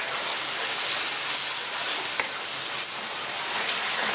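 Tomatoes cook in the pan for dal tarka, giving a steady, even sizzle that stays close and fairly loud throughout, with no talking.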